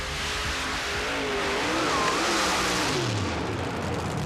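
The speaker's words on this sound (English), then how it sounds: "This 64 Corvette funny car out of Buchanan, Michigan sports a 525 cubic inch Keith Black Hemi engine" A 1964 Corvette funny car from Buchanan, Michigan, powered by a 525 cubic inch Keith Black Hemi, roaring through a mud race, a loud rough engine howl over heavy broadband spray and rumble.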